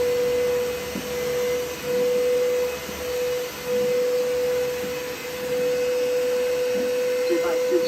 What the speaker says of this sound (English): So I decided to use my very handy dandy vacuum cleaner to vacuum it all up.